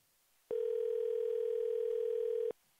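A single telephone ring tone on a call line during a live radio prank-call show: one steady, clean electronic tone lasting about two seconds, starting and stopping abruptly, heard alone with no talk.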